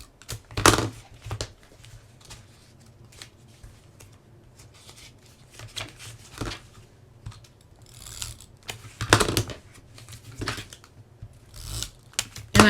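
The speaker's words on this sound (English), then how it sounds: "So I'm just going to put down some more tape, place it down, lift up" Adhesive tape pressed down onto notepad pages and peeled back up, crackling in short, sharp bursts that repeat at an irregular pace, close and fairly loud against a quiet room.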